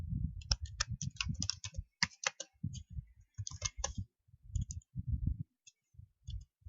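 Someone types a name into Microsoft Word on a computer keyboard, producing quick, irregular key clicks in short bursts with brief pauses. The clicks sound close and fairly quiet, with no talking.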